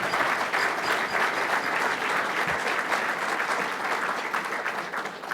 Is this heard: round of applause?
yes